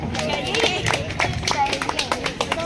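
Applause from residents gathered at a colony Independence Day celebration, a dense patter of clapping hands running throughout with background chatter and voices mixed in.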